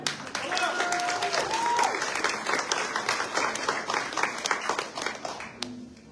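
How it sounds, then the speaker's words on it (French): An audience at a public political meeting claps in a sustained round of applause, moderately loud and even, with scattered voices and a brief whistle-like tone mixed in near the start. "On peut encore l'applaudir."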